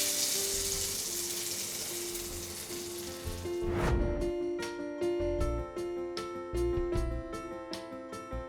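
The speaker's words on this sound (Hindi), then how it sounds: "और अब ये तड़का जाएगा इस दाल के अंदर।" Hot ghee tadka with Kashmiri red chili powder is poured into dhaba-style yellow dal, giving a loud, hissing sizzle that then settles into softer bubbling with intermittent crackles, close up and with no talking.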